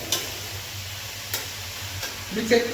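A spiced Sunday dish fries in a pan while being stirred, a steady sizzle broken by a few scraping strokes of the spoon that grow louder at the close.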